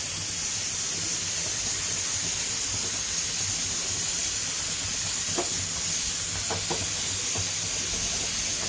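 Bajra flatbread (bhakri) roasting directly over a gas stove flame, a steady, loud rushing hiss of the burner with a few faint crackles and soft taps toward the end, close and unbroken by talk.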